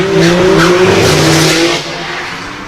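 A 300ZX drift car screeches its tyres loudly during a sighting lap at a British Drift Championship round at Buxton, a sustained squeal over engine roar that fades toward the end.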